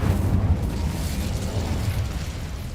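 A fiery Incendio spell bursts out in the Hogwarts Legacy video game, a sustained rumbling, explosive roar with deep low-end boom that stays loud and steady for nearly three seconds, with no voices over it.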